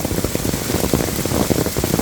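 Hailstones fall and strike the ground in a dense, steady, loud patter, an unbroken clatter heard close by with no voices.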